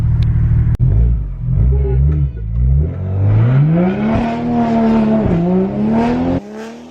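Toyota A90 Supra fitted with a catless downpipe revving hard up close, its loud, raspy engine note climbing steadily in pitch with brief dips and pops between pulls.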